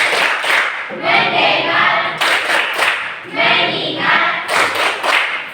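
Rhythmic hand clapping in a classroom during the 'tepuk fokus' clap routine, with bursts of claps alternating with a teacher's spoken calls and students' chanted replies, close and loud.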